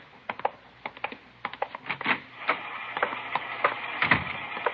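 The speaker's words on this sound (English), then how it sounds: "She's running all the cards on previous shooting through the IBM machine" An IBM punch card machine runs a stack of cards, giving a fast, irregular mechanical clatter of ticks and clicks that grows denser and busier toward the end, close by with no talking.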